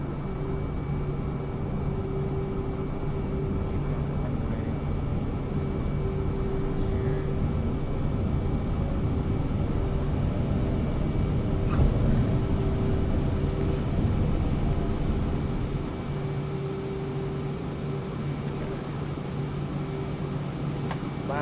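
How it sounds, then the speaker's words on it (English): Cirrus Vision Jet in a flight simulator spooling to maximum takeoff thrust, a steady whining engine tone with broadband rumble that holds level throughout, then eases slightly toward the end. "We've got max thrust."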